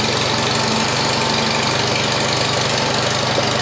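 An old Farmall 140 tractor engine idles loudly and steadily nearby, a constant rough, knocking rumble with no other sounds.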